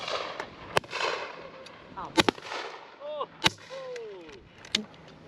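Shotguns firing at a simulated game day clay shoot at Patson Hill Farm Sporting Club: several sharp, loud reports spaced a second or two apart outdoors, with people talking and exclaiming between shots.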